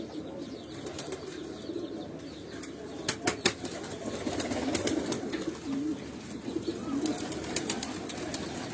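Pigeons released from a rooftop loft take flight, with a few sharp bursts of wing flapping near the middle over a steady outdoor background and scattered soft cooing.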